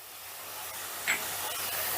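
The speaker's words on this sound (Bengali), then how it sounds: "এবারে মশলাটাকে আমি বেশ ভালো করে কষে নিচ্ছি।" Spice paste frying in hot oil in a pan for an egg fritter curry, a steady, moderately loud sizzling hiss that continues throughout with no talking.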